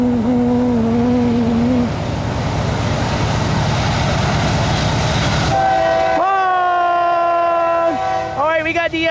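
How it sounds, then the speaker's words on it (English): CSX westbound loaded coal train with helper locomotives sounding a loud multi-chime horn in long blasts over the heavy rumble of the passing consist, with excited voices nearby. "We got the csxt b816-15 westbound loaded coal train"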